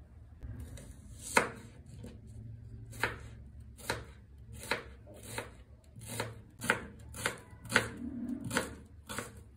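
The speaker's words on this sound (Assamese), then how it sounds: "এতিয়া গোটেইখিনি বস্তু কাটি লও ভালকে" Onions, potatoes and tomatoes are chopped for chicken curry, about a dozen crisp knife strikes on a board at an uneven rhythm, close and clear with no talking.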